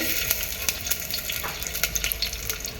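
Onions sizzle in a few spoonfuls of hot oil for a mutton keema balls curry, a steady close hiss dotted with sharp crackles and pops, without voices.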